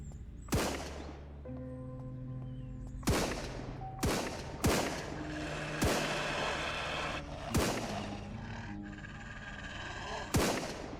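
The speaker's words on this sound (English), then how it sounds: "there is somebody else shooting" Sharp gunshots crack out one at a time in the zombie-survival video game SurrounDead, roughly eight loud reports spaced a second or two apart, each with a short echoing tail.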